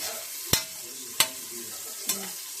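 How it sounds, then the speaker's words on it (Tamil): Onion, garlic and green chili are stirred in a hot pan: three sharp spoon knocks against the pan, evenly spaced, over a soft continuous sizzle, close and without speech. "வெங்காயம், பூண்டு, பச்சை மிளகாய் கலக்கி விடு."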